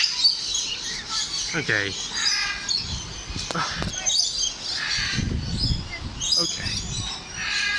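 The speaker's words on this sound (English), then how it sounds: "So yeah, we have a red-fronted macaw here." Red-fronted macaws and other parrots call and chirp in a busy aviary-like setting, with scattered squawks and tweets overlapping while a person speaks briefly nearby.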